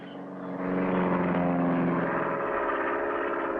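A cartoon propeller plane takes off. Its engine swells in over the first half second into a loud, steady buzzing drone with a rough pulsing texture, then stays sustained and close through the rest, with no speech.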